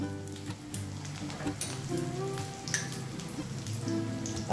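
Paste and two slit green chillies sizzle and crackle steadily in a hot pan, a dense close frying hiss with small pops, no speech over it.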